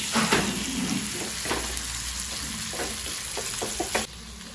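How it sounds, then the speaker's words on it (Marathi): Surmai (kingfish) sizzles steadily in hot oil after being turned onto its second side, a continuous close frying hiss with a few soft clicks and pops, then dropping quieter near the end. "बघा आपली मच्छी दुसरी साईडची पण आता फ्राय करायला ठेवले।"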